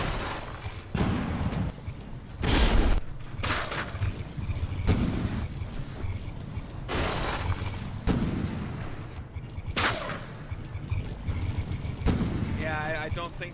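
Cram cannons firing in From The Depths during a frigate battle: repeated heavy booming shots and impacts every second or two, loud and dense over a rumbling battle background, with voices talking throughout.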